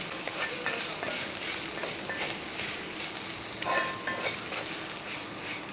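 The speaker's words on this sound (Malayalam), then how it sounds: "ആ വെണ്ടയ്ക്കയുടെ ചേർത്ത് ഇതെല്ലാം കൂടെ നന്നായിട്ടൊന്ന് ഇളക്കി കൊടുക്കും എല്ലാം കൂടെ മിക്സ് ചെയ്തെടുക്കും" Okra curry being stirred in an iron pan, a continuous bright frying sizzle with soft scraping strokes throughout, close and steady, no voices.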